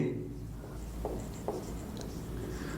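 Chalk or marker scratches across a classroom board in a Hindi lesson, a few soft, brief strokes close by over a low room hum.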